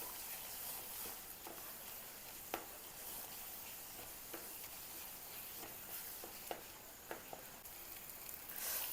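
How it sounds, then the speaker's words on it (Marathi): Egg curry gravy with spices sautéing on full flame: a steady low sizzle with occasional sharp clicks of stirring, faint and close, with no talk. "ह्याला 2 मिनटं परतून घ्यायचे फुल गॅसवर."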